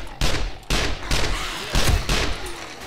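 Gunfire in the zombie survival game 7 Days to Die, several loud broadband shots landing at irregular intervals amid ongoing game noise.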